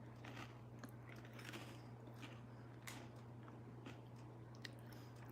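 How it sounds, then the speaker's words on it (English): Close, quiet crunching and biting, as of someone chewing crisp Lotus Biscoff cookies, with scattered sharp cracks over a low steady hum. "So I'm gonna eat some of my Lotus Biscoff cookies with some graham cracker coffee."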